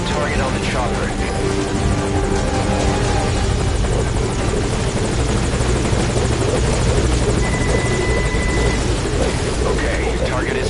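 A helicopter in the video game Metal Gear Solid V hovers nearby, its rotor throbbing in a loud, constant roar throughout, with radio voices faintly mixed in underneath.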